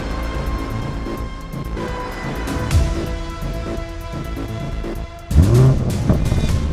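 A 2022 Lamborghini Urus doing a launch-control start in Corsa mode on an open road in India, its engine loud and continuous, with pitch climbing through the gears and a sharp surge near the end.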